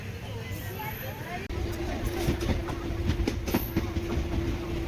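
The Chennai Egmore Express passenger train rolls along the rails between Trichy and Karur, its wheels clattering in steady clickety-clack beats under a constant rumble, with faint voices chattering inside the carriage.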